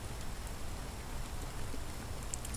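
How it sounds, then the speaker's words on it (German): Steady rainfall in a German pre-alpha crafting survival game, Darco - Reign of Elements, at night: a dense, even hiss of rain with scattered droplet patter, continuous and fairly quiet, with no voices. "Hört der Regen wenigstens auf."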